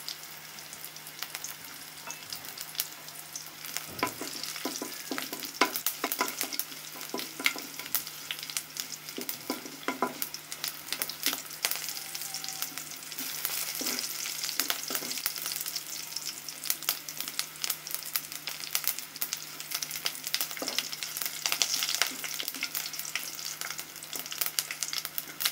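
Mustard seeds frying in hot oil with garlic for a sour red amaranth and olive dish crackle and pop constantly over a steady sizzle, with dense sharp snaps close up for the whole stretch.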